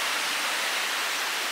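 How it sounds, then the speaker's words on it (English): A small indoor waterfall in the baggage claim hall of Dubai airport, heard as a steady, fairly loud wash of falling water with no voices over it. "You got a pretty little waterfall behind it."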